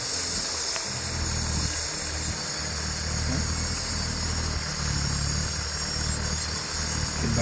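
A 6010 four-wheel-drive tractor fitted with a Sarvashakti rotavator runs with a loud, steady, even engine drone throughout, with no talking.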